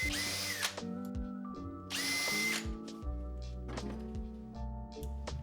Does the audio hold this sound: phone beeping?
no